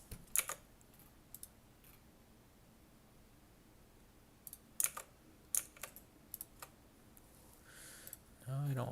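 Fingers type on a computer keyboard in short, scattered bursts of crisp clicks, quiet and close, separated by long pauses of low room hiss.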